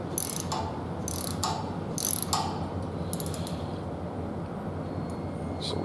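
A ratchet with a 10mm metric socket tightens a nut on a MIG gun bracket, giving several quick clicking bursts over steady shop background noise.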